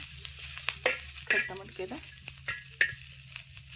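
Green chilies frying in oil in a pan for a tomato chutney, a soft steady sizzle broken by sharp crackles and clinks of stirring, close and moderately loud, with no talking.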